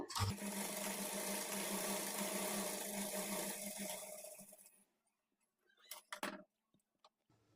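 A sewing machine runs steadily for about five seconds, stitching the edge of a blouse lining with a dense mechanical whir, then stops. Silence follows, broken by a few brief handling clicks.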